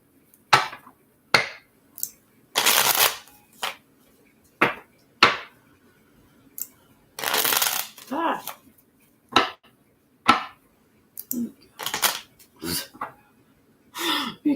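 Tarot cards being shuffled, a run of short, crisp riffling bursts and soft slaps repeating in uneven rhythm, close and fairly loud with brief pauses between, no talking.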